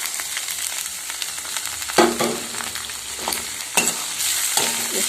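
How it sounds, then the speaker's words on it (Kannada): Moong dal and dill greens fry in a pan after tempering, steady sizzle with occasional scraping stirs and a couple of louder clatters, close up and continuous, no speech. "ಹೆಸರು ಬೇಳೆ ಮತ್ತು ಸೊಪ್ಪನ್ನು ಸೇರಿಸ್ಬಿಡ್ತೀನಿ"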